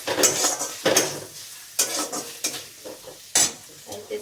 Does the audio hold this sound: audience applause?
no